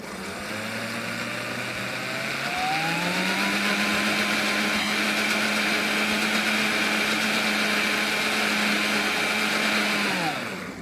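A kitchen blender whirs up to full speed, runs at a loud, steady high-pitched drone for several seconds, then winds down.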